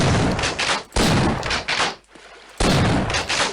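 Video game gunfire in loud, dense bursts: two long volleys, a short gap with quieter clatter, then another heavy burst, all close and with no talk over it.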